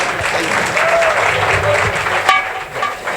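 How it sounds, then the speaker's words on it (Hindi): Enthusiastic audience applause for the performers Namita and Rajesh at a live music show, dense continuous clapping close by, briefly punctuated by a sharp knock and a few whistles near the end. "नमिता जी और राजेश के लिए एक बार जोरदार तालियां।"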